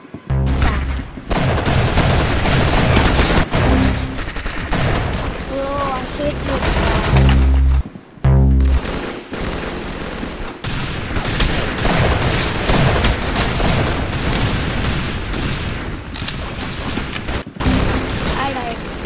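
Dense rapid-fire weapon blasts from laser attacks in the Roblox game Arsenal, loud and nearly continuous with a few brief gaps, under overlapping game noise and occasional speech.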